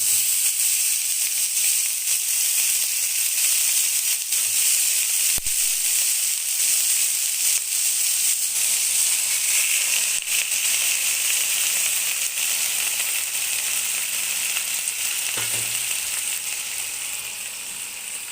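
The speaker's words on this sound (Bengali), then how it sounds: "এবার আমি এর মধ্যে দিয়ে দিচ্ছি সব সবজিগুলো যেগুলো আমি কেটে রেখেছিলাম" Chopped vegetables roast in a pan with flaxseed for a mayo broccoli dish, giving a steady, close hiss and sizzle that holds evenly throughout and fades slightly at the end, with no talking.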